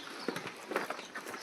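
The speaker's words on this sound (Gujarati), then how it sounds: "તો જોઈ શકો છો આપણી ગાયો બધી હાલી આવે છે" A herd of cows walks along together, their hooves clopping in an uneven, overlapping patter at close range on hard ground, fairly faint and with no talking.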